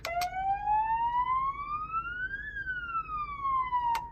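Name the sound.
police siren from vehicle PA system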